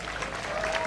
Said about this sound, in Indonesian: Tepuk tangan untuk Bung Karno.